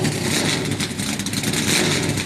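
NASCAR race cars roaring at Daytona International Speedway during the Busch Clash, a dense, loud engine drone that stays steady and close the whole time.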